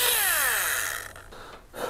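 A ZNP mini electric chainsaw whines at high pitch as it bites into wood, holding steady and then trailing off with a brief final rev.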